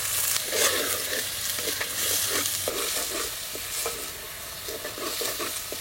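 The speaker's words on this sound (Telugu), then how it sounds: "2 బిర్యానీ ఆకు, 1 నల్ల ఇలాచి, 3 మీడియం సైజు ఉల్లిపాయ ముక్కలు కూడా వేసుకుని కలర్ మారే వరకు వేయించుకుందాం." Chopped onions frying with bay leaves and a black cardamom pod in hot oil, sizzling steadily and close, with repeated scraping as a spoon stirs the pan.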